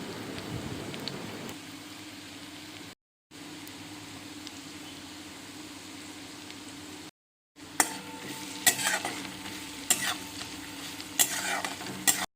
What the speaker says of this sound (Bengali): পেঁয়াজটা বেশ নরম হয়ে গেছে আর খুব সুন্দর করে ভাজা ভাজাও হয়ে গেছে